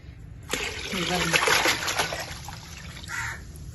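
Water poured over ground banana peels for rooftop-garden compost, a close, splashing trickle that runs for about two seconds and then thins, with a voice briefly speaking over it.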